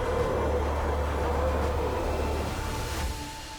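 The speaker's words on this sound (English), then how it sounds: "The weapon fired numerous rockets almost simultaneously" A WW2 Katyusha rocket launcher firing a barrage of rockets nearly at once, a continuous loud rushing roar that holds steady, then eases off toward the end.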